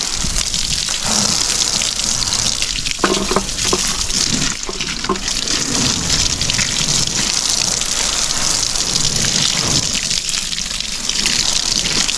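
Water pours steadily and loudly into a plant container to flush out ants, a continuous gushing splash that runs without letup over the whole stretch.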